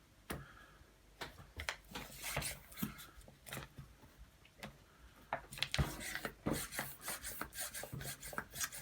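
A hand pump's head is screwed by hand onto the inner tube valve of a Britax Go Next stroller rear wheel, giving close, quiet rasping and ticking twists in irregular bursts.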